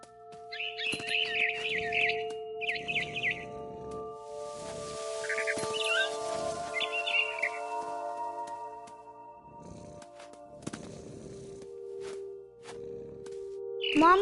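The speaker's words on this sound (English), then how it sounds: "Then I heard chirping outside my window. It was a barn swallow going back to her nest." A barn swallow chirping outside a window in the video game What Remains of Edith Finch, several short bright bursts of calls in the first half, then quieter intervals, heard over a low steady hum of background tones.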